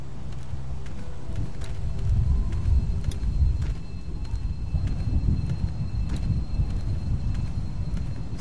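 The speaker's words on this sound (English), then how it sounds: "Sounds like there's a storm starting or something." In The Walking Dead video game, a storm builds up as a continuous low rumbling roar of wind and weather, steady and fairly loud, with faint creaks and ticks on top and no talking.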